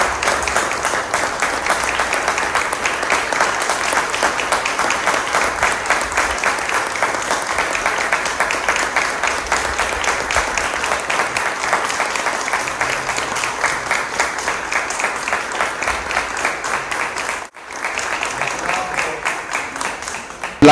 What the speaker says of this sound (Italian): L'applauso è sinonimo di augurio